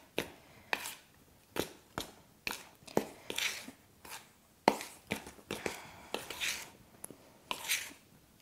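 Homemade moon sand being stirred and mixed by hand, giving a series of short crunchy scraping strokes in an irregular rhythm, close and fairly quiet with no talk.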